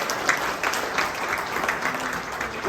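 Steady applause from an audience at the 2023 AVCA All-America social reception, honoring Parker Van Buren of Loyola; a dense, even wash of clapping fills the room at moderate volume throughout.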